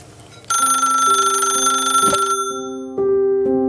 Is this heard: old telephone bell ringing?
yes